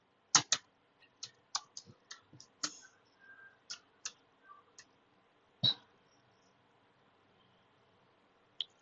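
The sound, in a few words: typing an IP address on a computer keyboard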